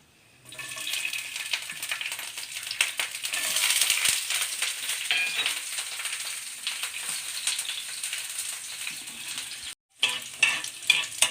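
Garlic and nigella seeds fry in hot oil, a steady bright sizzle that swells after being added, with stirring scrapes and a brief break near the end before the sizzle resumes.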